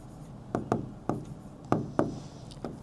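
Handwriting a math solution's conclusion, with six or seven sharp, close taps and strokes spaced irregularly against a quiet background and no talking.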